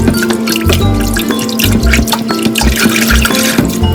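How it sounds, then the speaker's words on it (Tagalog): Minced beef being washed under running tap water in a sink, with close splashing, dripping and shifting liquid sounds, loud and continuous, no talking. "Hugasan ko na rin guys ang minced beef para matanggal ang amoy"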